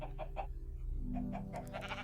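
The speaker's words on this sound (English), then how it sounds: "I hear chickens." Farm animals in a video game, a modded Minecraft world (Feed the Beast), give a few short repeated clucking calls over a steady low ambient hum, moderately near.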